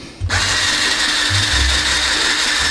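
A power drill drives a screw into a wall stud, whining loudly and steadily close by, and its pitch dips briefly as the screw bites.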